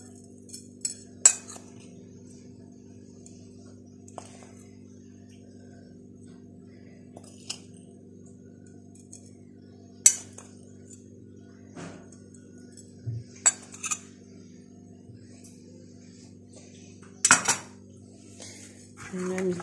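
Chicken being tossed with black pepper, curry powder, turmeric, garlic powder and salt in a dish, giving scattered clinks and taps of utensils against the dish over a low steady background hum, with a few louder knocks.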